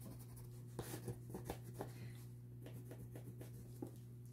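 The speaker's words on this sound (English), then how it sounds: "rub the pencil on" Pencil rubbed onto paper to blend shading in a collage artwork, faint soft scratching strokes with a few light taps over a low steady hum.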